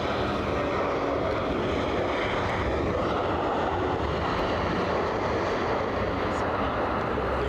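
An airliner at Brussels Zaventem airport roars steadily throughout, a broad continuous engine rumble heard from a distance with wind noise mixed in.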